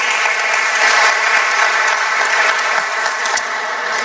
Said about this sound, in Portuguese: Dá mais um aplauso para Jesus